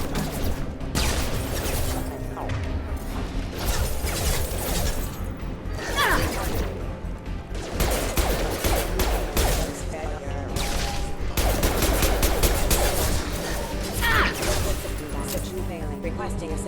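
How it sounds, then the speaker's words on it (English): Combat in Mass Effect Legendary Edition as a grenade launcher fires on attacking mechs: dense, continuous bursts of blasts, gunfire and crashing impacts layered over a game music score, with voices talking throughout. "Use the grenade launcher to take them out."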